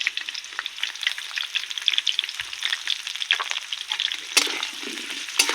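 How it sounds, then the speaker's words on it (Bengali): Potatoes fry with a little turmeric powder in a pan, giving a steady close crackling sizzle with stirring scrapes throughout and no talk. "খুব সামান্য পরিমাণ হলুদ গুঁড়ো দিয়ে দিচ্ছি আলু ভাজার সময়।"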